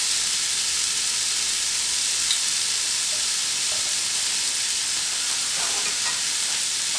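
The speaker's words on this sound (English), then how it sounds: "Kind of spread this out a little bit like so, and start stirring in." Riced cauliflower mixed with jarred pesto frying in a pan, a steady dense hiss of sizzling throughout with faint scrapes of stirring, close and even in level, no voices.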